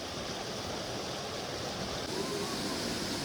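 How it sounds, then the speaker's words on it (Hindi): Steady, loud rush of falling water from the Kanti Mashwa waterfall near Paonta Sahib, a continuous broadband roar heard close by with no break. "ये है वो वाटरफॉल, सो ब्यूटीफुल"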